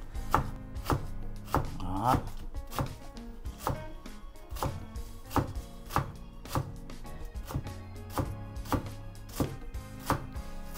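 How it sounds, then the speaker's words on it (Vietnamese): Vietnamese water celery (rau cần) being chopped with a knife on a board, a steady run of sharp, close, evenly spaced chops lasting throughout, with one brief spoken word. "Băm nhỏ tụi nó ra. Sắc nhỏ tụi nó ra."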